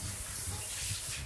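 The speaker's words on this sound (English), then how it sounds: "Andy's going to take a shower for the first time as well." Shower water spraying steadily as a dog named Andy gets his first bath, a close, even hiss with a faint low rumble underneath.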